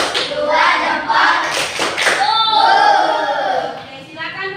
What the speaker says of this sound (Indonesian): kita beri dulu tepuk jempol untuk kelompok 1